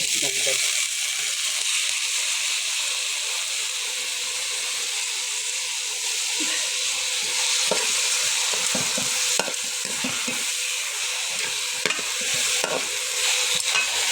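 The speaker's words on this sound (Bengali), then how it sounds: "ডালটা ভাজি করে নিতে হবে সুন্দর করে" Dal (lentils) fry in a pan under a continuous close sizzle, with frequent scraping and tapping of a stirring spoon over the full stretch and no voices.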